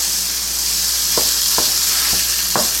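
Food sizzles steadily in a hot pan set for beef and cheese enchiladas, a constant bright hiss broken by a few sharp clicks or taps of a utensil, close and fairly loud with no talk.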